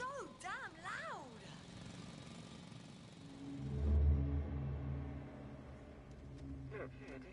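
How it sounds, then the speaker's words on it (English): A loud drill runs in the sci-fi video game The Invincible, a heavy low rumble swelling after a few seconds of voices and holding steady to the end, with talk over the start. "It's a drill."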